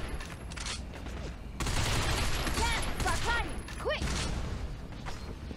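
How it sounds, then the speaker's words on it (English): Dense sustained gunfire in the third-person shooter Binary Domain, rapid bursts and ricochet whines building to a loud continuous barrage with mechanical clanks, close and busy. "I'm being shot at."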